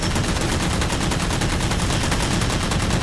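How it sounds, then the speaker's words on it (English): Sustained rapid machine-gun fire from a Mantis mech in Halo 4, a dense unbroken rattle of shots played loud and close, continuous for the full few seconds with no talking. "Its machine gun is basically an AA gun."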